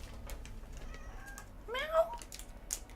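A pet cat gives a single short meow in the middle, faint and close, over quiet room noise with soft keyboard typing clicks scattered around it.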